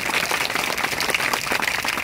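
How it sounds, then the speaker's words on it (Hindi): A crowd at a Ram Katha gathering claps loudly for honoured guests. The dense, steady clapping lasts about two seconds without a pause. "एक बार ऐसे व्यक्तित्वों के लिए हम जोरदार तालियां बजाएं।"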